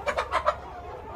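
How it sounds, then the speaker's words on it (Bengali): A rooster among 550 laying hens on a poultry farm gives four quick, close clucking calls in a row, then the barn settles into a quiet hum. "এটা হলো 550 মুরগির ভিতরে একটি মোরগ"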